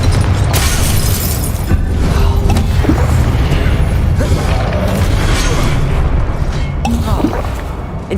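The Confringo blasting spell from the video game Hogwarts Legacy bursts in loud, booming explosions with crackling debris over dense, continuous game noise, several hits landing in quick succession.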